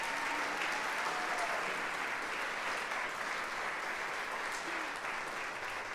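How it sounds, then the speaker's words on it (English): An audience at a recital in Merkin Hall claps continuously, a steady, even roll of applause heard alone at moderate distance. "How about a round of applause?"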